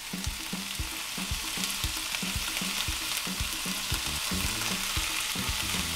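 Tomatoes and garlic sizzling in a hot pan, a dense, continuous frying hiss with rapid crackles and occasional stirring scrapes, close and alone.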